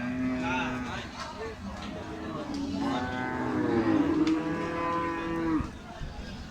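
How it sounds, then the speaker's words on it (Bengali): A Sahiwal bull gives a long, deep moo that swells and then fades, with people talking and a busy cattle market crowd murmuring around it. "এখানে খুবই সুন্দর দুইটি শাহিওয়াল জাতের ষাঁড় গরু দেখা যাচ্ছে।"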